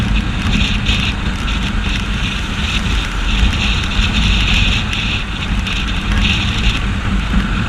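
Wind noise while riding a bike with an umbrella canopy on a highway: a steady, loud roaring rush of air buffeting the microphone, unbroken for the whole stretch, with no talking.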